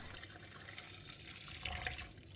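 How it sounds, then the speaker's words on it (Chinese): Tap water runs steadily over squid being rinsed in a kitchen, a faint continuous splashing hiss with a slight swell near the end. "用流动水把它清洗干净"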